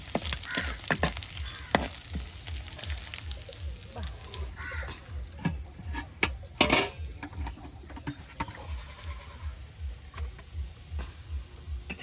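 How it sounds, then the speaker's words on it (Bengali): Onions frying in a pan for a village breakfast, a steady sizzle with intermittent clinks and scrapes of stirring, fairly close and moderately loud, with no talk over it. "এই যে ভাজা ভাজা হয়ে গেছে, হ্যাঁ, পেঁয়াজগুলি।"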